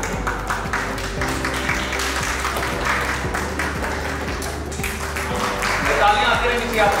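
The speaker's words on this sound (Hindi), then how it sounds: "शबनम जी प्लीज एक बार जोरदार तालियां आ जाइए" Steady clapping from an audience at an award ceremony, with music playing and a voice speaking over the applause.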